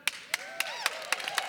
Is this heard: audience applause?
yes